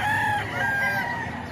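A crocodile hen at a poultry market in Bocaue crows loudly and close by, a wavering call with clucks mixed in, heard alone over the steady hum of the surroundings.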